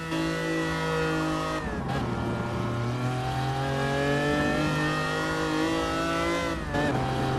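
Lancia Stratos engine in Gran Turismo Sport, loud and steady as it revs through the gears, with two sharp shift dips and a constant high mechanical whine throughout.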